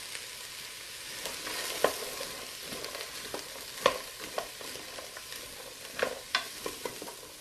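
Garlic and roasted red pepper sautéing in an Instant Pot give a continuous close sizzle, punctuated by irregular spatula taps and scrapes as the mixture is stirred.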